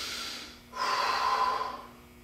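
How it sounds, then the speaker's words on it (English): Slow, audible breaths in and out through the nose during a forearm stretch, a soft hissing exhale followed by a long steady inhale, close and alone with no talk. "slowly breathing in and out, trying to get more of a stretch with each breath"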